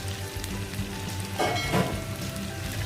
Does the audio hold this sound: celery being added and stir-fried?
yes